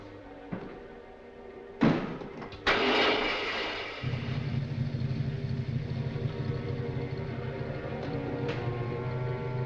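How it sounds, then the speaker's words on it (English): An engine starts up and settles into a steady, fairly loud idle, preceded by a couple of sharp knocks and thuds. "Start the motor."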